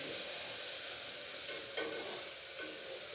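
Onions sautéing in a pan for tomato rice give a steady, close sizzle and hiss, with a brief brighter stirring scrape partway through.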